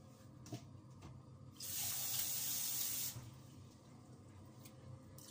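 Water runs from a tap in a steady, loud rushing stream for about a second and a half, then cuts off, leaving quiet room tone.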